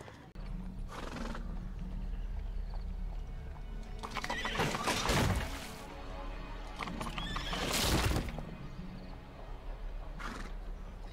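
A horse in the video game Sherlock Holmes: The Devil's Daughter neighs loudly twice amid clip-clopping hooves, the whinnies rising sharply over a quieter, steady background.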